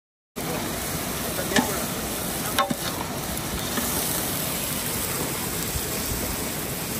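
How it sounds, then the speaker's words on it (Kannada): Mutton sizzling and frying with masala in a pan, stirred throughout with a few sharper scrapes of the spoon against the metal, a steady close hiss with no talking. "ಮಟನ್ ಹಾಕಿದ್ಮೇಲೆ ಚೆನ್ನಾಗಿ ಫ್ರೈ ಮಾಡಬೇಕಿದೆ."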